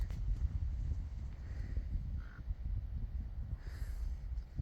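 A bird calls a few times in an open desert mining town in Arizona, its short mid-pitched caws faint and distant over steady wind and outdoor rumble.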